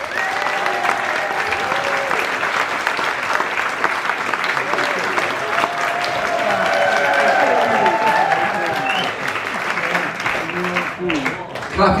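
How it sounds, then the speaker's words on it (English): An audience in a village hall applauds a performer being introduced at a music event, a dense, steady wash of clapping lasting the whole stretch, with scattered voices and cheers mixed in. "Please give a huge round of applause to my travelling companion, Jacob Peck."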